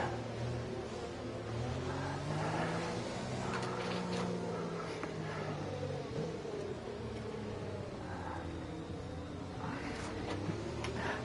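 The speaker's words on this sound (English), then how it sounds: "I'll take this opportunity to pour myself another drink while we wait for the safety car to come around." A safety car engine drones in a racing video game at the Brazil circuit, a sustained close motor tone with rising and falling pitch sweeps as it revs through gears, continuous throughout.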